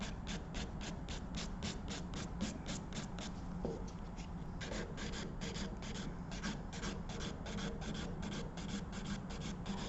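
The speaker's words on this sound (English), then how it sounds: "So as I'm filing right here" Rapid rhythmic rasping of a nail file shaping a two-colour nail enhancement, quick repeated strokes with a brief pause midway, close and fairly quiet with no talk.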